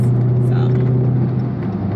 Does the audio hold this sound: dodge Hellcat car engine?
yes